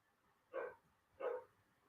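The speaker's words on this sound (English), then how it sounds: "because you may hear my dog" A dog barks twice, evenly spaced about three quarters of a second apart, each bark short and moderately faint against a quiet room.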